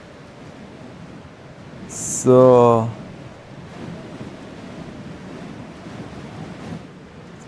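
Wind rushes steadily across the cliffs in the video game Eastshade, a constant airy roar beneath a short spoken word.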